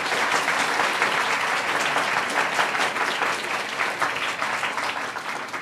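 A lecture-hall audience of professors and students applauds warmly to welcome a guest speaker at a university media forum, a dense, steady wash of many hands clapping without pause, close and full throughout.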